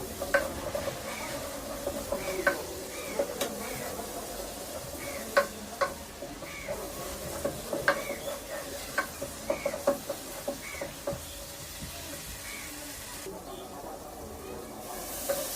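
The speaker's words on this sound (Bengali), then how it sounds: "মশলাটাকে নাড়া দিয়ে দেবো, যাতে মশলাটা ভালোভাবে মিশে এটাকে আমি ভালোভাবে কষিয়ে দেব" Spice masala for a Bengali beef curry stirred and fried in a pan: steady soft sizzle with repeated scraping clicks of the spoon at an irregular rhythm, close and moderately quiet, with a faint voice underneath.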